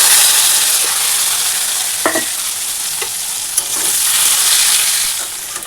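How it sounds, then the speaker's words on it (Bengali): Taro and potatoes frying in oil with turmeric, bay leaf and fennel seeds, a loud continuous sizzle close by with occasional spatula scrapes and light clinks, no talking. "তো কচু আর আলু ভাজা হয়ে গেছে"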